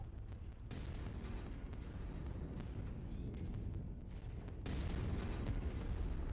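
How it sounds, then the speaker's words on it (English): Heavy, sustained weapon fire and rumbling blasts from mechs in modded MechWarrior 5: Mercenaries roll on continuously, dense and loud throughout. "Shoot it, guys, shoot it"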